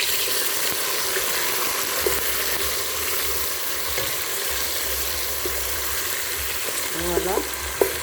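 Green pepper frying for a rice sauce, a continuous close sizzle with low background hum and a few light clinks near the end.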